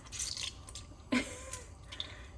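Water squeezed by hand from produce during small-batch water bath canning prep drips and splatters in a few brief, close wet bursts, with one sharper splash midway.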